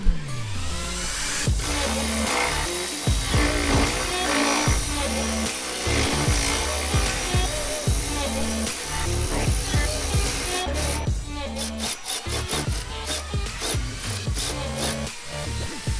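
A power tool rattles and whirs in repeated bursts while undoing the cab bolts on a Jeep Wrangler, with sharp metallic clanks close by.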